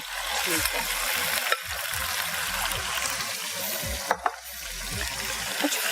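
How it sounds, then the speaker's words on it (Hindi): Chicken frying in a pan over high heat sizzles continuously, broken by intermittent stirring scrapes and a few sharp clinks close by. "अब इसको तेज आंच पे चिकन को हमें थोड़ा सा फ्राई करना है"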